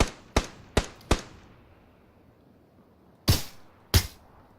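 Gunfire rings out in the PUBG video game: three sharp shots in quick succession, a pause, then two more loud cracks, each with a short decaying tail.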